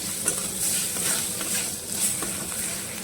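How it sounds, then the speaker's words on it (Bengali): A spoon stirs garam masala powder and a pinch of sugar in a hot pan for a cauliflower paratha filling, giving a steady scraping and soft sizzle that runs unbroken throughout. "আর অল্প একটুখানি পরিমাণ চিনি সব কিছু দিয়ে এগুলো আরেকবার নাড়াচাড়া করে নিয়ে"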